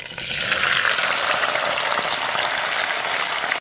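Loud, steady hissing sizzle of beef frying in hot oil over high heat, close up and continuous.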